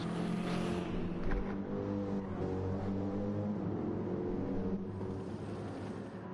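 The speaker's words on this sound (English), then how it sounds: "Cayman coming out of the pits now from back in P6." A Porsche Cayman race car leaving the pits in a racing game's endurance race at Road Atlanta, its engine a steady droning hum that rises under acceleration, fairly close and continuous with no talk.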